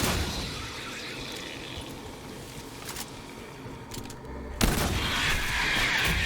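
Gunfire in the Aliens: Fireteam Elite video game, with technician gameplay: rapid bursts of shots crackle over a noisy battle bed, and a loud sudden blast erupts near the end.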